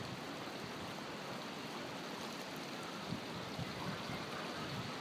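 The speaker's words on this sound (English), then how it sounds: "the creek is absolutely full" A creek swollen and running full right after a big storm, a steady broadband rush of water heard alone, moderately faint and continuous.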